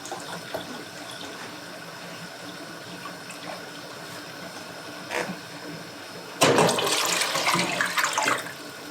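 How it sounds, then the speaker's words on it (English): Ten cups of vinegar are poured into a pot holding water for bread and butter sandwich pickles, a steady liquid splash that swells louder and fuller for the last couple of seconds. "We're going to add 10 cups of vinegar."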